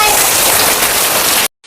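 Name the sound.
very heavy rain pouring outside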